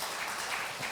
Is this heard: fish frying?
no